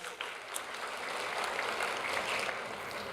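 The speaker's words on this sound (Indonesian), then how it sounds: "Boleh kita apresiasi mereka dengan tepuk tangan yang luar biasa" A church congregation at a Sunday worship service claps in appreciation of the volunteers working behind the scenes, a steady wash of crowd applause at moderate distance, fairly even throughout.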